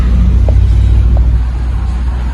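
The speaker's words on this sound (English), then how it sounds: "3-chamber mufflers down to a H pipe on there, come right off the headers." A car engine with three-chamber mufflers, H-pipe and headers idles with a deep, steady exhaust rumble, loud and close, holding an even low drone throughout.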